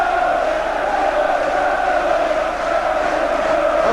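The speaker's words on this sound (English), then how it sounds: "Applause all around the crowd from the Villa fans" Football crowd of Aston Villa fans at a 1988 FA Cup match against Liverpool, a dense, steady roar of applause and cheering from the stands that holds evenly throughout.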